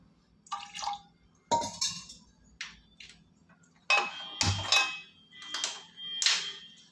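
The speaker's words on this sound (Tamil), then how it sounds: "2 டம்ளர் தண்ணி விட்டுக்கலாம்." Water is poured into a pot on the stove for a quick sambar made without lentils. Splashing and pouring come in several short bursts, with metallic clinks from the pot in between.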